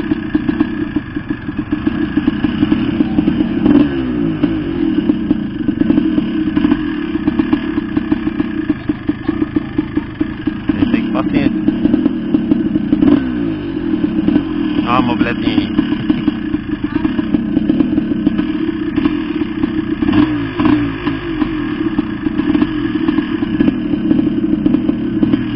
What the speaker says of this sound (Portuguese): Deixa todos os carros passar.